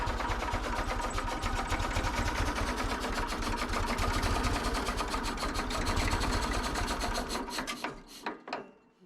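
A 1986 tractor engine runs steadily with a loud, rhythmic mechanical chugging and rattle, close by, then tapers off into a few uneven knocks near the end.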